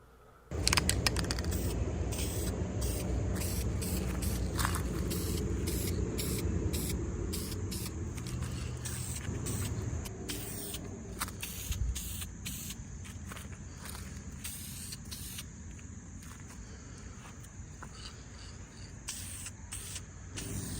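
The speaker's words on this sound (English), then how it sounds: "So I think I'm gonna spray them and at least make them both match." An aerosol can of spray paint hisses in long continuous bursts, close by, with brief gaps and faint clicks as the spraying stops and restarts.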